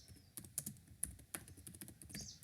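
Typing on a computer keyboard while writing a C program, quick irregular clicks of keys close by and faint, with a low room hum underneath.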